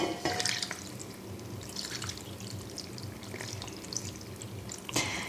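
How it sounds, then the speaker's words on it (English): Water poured over vegetables in a cooking pot, a soft splashing and trickling that comes and goes in bursts, fairly faint and close, with no talk. "And then now we are going to add the water."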